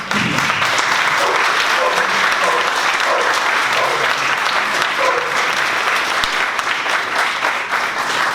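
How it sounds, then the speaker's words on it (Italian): An audience applauds an award winner at a prize ceremony, with sustained loud even clapping from a crowd indoors throughout. "Un applauso meritatissimo per la sua tenacia, la sua energia e insomma il suo coraggio soprattutto."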